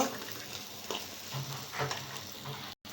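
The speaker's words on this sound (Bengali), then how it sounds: "এই যে দেখুন ভাজা ভাজা হয়ে গেছে" Ingredients sizzle in a pan just before Maggi noodles go in, a steady close frying hiss with a few brief stirring scrapes and a short dropout near the end.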